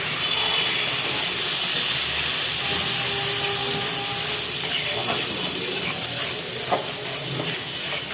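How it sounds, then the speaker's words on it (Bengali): Liquid poured into pointed gourd curry spices, a loud, broad steamy hiss and sizzle that holds steady throughout, close up, with occasional stirring clinks. "তারপরে একটু ঝোল দিব।"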